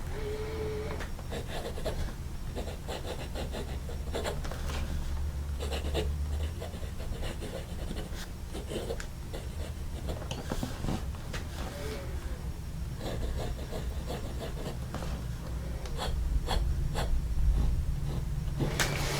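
A wooden fountain pen filled with J. Herbin L'Armée de Cassis ink, its nib scratching across paper in close, steady strokes with small rhythmic pauses, no voices.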